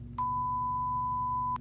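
A pure 1,000 Hz sine tone plays through a speaker, starting with a click, holding perfectly steady and loud for over a second, then cutting off abruptly over faint background hum.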